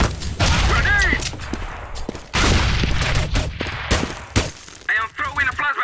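Gunfire and a thrown grenade in a competitive video game, with loud overlapping shots, sharp bursts and blast-like cracks scattered across the stretch, mixed with chirpy effects and voices talking.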